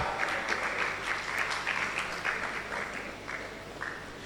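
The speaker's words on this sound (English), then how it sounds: "Please clap for her." An audience at an International Women's Day celebration applauds a faculty dean after her introduction, with steady, fairly loud clapping from many hands that slowly thins and fades toward the end, with little talk.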